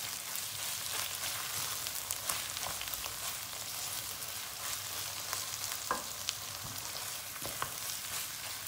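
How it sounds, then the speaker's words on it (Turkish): Tomato paste frying with onions in a pan, giving a continuous bright sizzle with occasional light scrapes and taps of stirring throughout. "Salçayı da iyice kavuracağız içinde."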